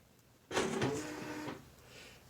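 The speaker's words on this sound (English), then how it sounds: "Insert a piece of paper" An Okidata 320 9-pin dot matrix printer pulls in a sheet of paper, giving a loud mechanical whirring and buzzing burst of about one second, after which a quieter motor hum continues with no voices.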